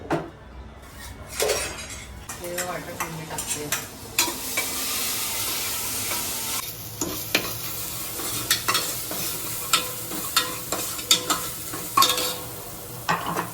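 Homemade green masala paste of onion, coconut and garlic frying in hot oil in a pan: a steady close sizzle runs throughout, broken by repeated scraping stirs and light metal clinks of the spoon against the pan.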